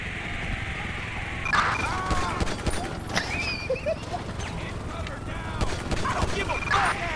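Gunfire and crashes from Grand Theft Auto V break out in scattered bursts during a police chase, mixed with radio dispatch chatter and a steady engine drone.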